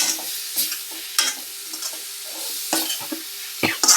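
A spoon scrapes and stirs through a thick soya chunks curry in a pan, with soft sizzling underneath and a few sharper knocks near the end.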